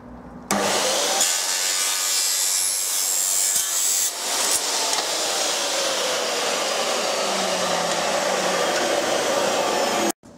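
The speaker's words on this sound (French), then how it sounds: "On va couper donc cette part close avec le nombre de centimètres que l'on souhaite pour avoir l'espace entre les lames" A saw cuts a small wooden spacer piece to length for a fence kit, with a loud, continuous, rasping sawing sound that runs almost unbroken for about ten seconds.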